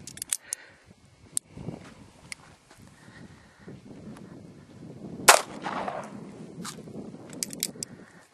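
Cobra Derringer pistol chambered in .38 Special firing outdoors: a few sharp cracks scattered through the stretch, one loud close shot standing out, with faint shuffling and handling noises between them.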